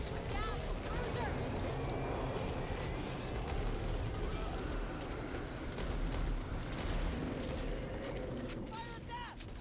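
Dense, continuous gunfire fills a chaotic Back 4 Blood firefight, rapid overlapping shotgun blasts and rumbling bursts layered with game noise, while players talk over the action throughout.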